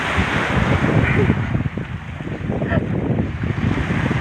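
Sea waves wash steadily along a beach, a broad continuous surge with wind buffeting the microphone throughout, loud and close with no clear breaks.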